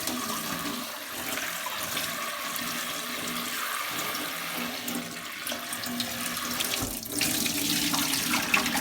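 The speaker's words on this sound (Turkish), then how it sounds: "bol miktarda yıkıyorum bunu soğuk suyla" Cold tap water runs steadily into a sink while ingredients for spicy-sour Antep dried dolma are rinsed, a continuous close splashing flow with no talking.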